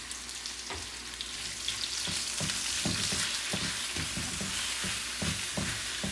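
Bok choy stems stir-frying with sweet potato in a hot pan, a steady close sizzle broken by rhythmic scraping and tossing strokes of a spatula, with no talk.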